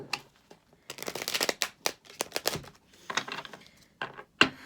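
Oracle cards being shuffled by hand nearby, with bursts of riffling and crisp slaps separated by short pauses, ending in a sharper snap.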